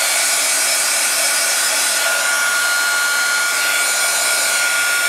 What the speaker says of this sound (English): This process gets a lot faster as the heat gun heats up.